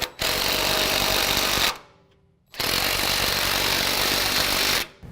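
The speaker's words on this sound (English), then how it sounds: "So I'm going to use an impact just to run these up" An impact wrench runs up bolts during a Havoc Offroad 6-inch lift kit install on a 2015-17 Ford F-150 4WD. It hammers loud and close in two sustained bursts with a short pause between them.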